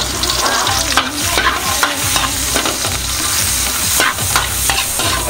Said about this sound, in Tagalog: gisa muna tayo ng bawang